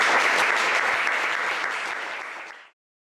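Audience applause at a concert of music by women and non-binary composers, a dense sustained round of clapping that fades out after about two and a half seconds.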